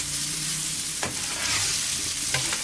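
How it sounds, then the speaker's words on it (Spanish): Rice fries in oil in a paella pan with Ibérico secreto pork and vegetables, giving a close, steady sizzle and crackle with a couple of sharper stirring scrapes. "Ahora sofreímos el arroz un poquito y así nos va a coger todos los sabores"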